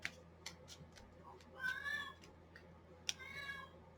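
A pet cat meows a few times indoors, with a pair of longer drawn-out calls near the middle and end, close and clear over faint room noise and occasional clicks.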